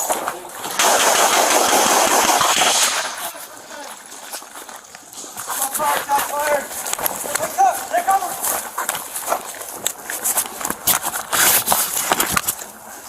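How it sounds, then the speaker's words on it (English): Rapid bursts of gunfire from a deadly police shooting in South Austin crackle repeatedly alongside a steady roar, with voices talking over parts of the clip. "You could clearly hear the gunfire."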